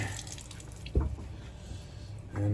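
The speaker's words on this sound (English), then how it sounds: "splash a little more water on my face" Water splashes onto a face at a bathroom sink while preparing for a shave, with a running tap in the background, one brief splash near the middle and another starting at the end.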